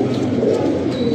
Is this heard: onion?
no